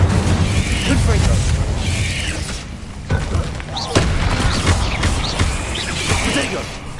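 Spell blasts from Bombarda and Confringo in the video game Hogwarts Legacy, a string of booming bursts and crackling impacts repeating under a player calling out spell names.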